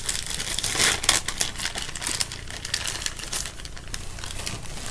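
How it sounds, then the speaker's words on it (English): Plastic bag being pulled open, a steady dense crinkling and rustling close up with sharper crackles throughout, no talking. "Oh, I hate these type of bags, they're hard to undo."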